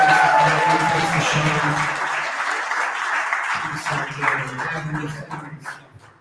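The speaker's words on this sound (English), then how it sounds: "Can we get one more big round of applause for the folks here at the Ohio County Public Library?" Applause from an audience at the Ohio County Public Library in Wheeling, moderately loud and slowly fading, with voices audible underneath and some hum in the background.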